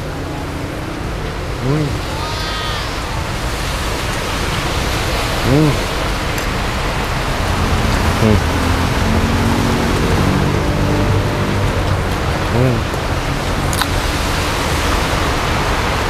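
Steady, dense rain hiss fills the whole stretch at an outdoor breakfast food stall. Faint voices and brief tonal sounds come and go underneath it.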